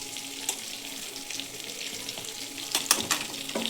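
Onion and grated coconut fry in a pan for a spinach stir-fry, with a soft steady sizzle and sharper scraping clatters from the stirring spoon, loudest near the end.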